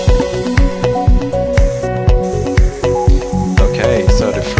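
Paint from a sprayer in the Stencil Art Spray Masters game hisses out in a rapid series of short, loud, rhythmic bursts over steady background music.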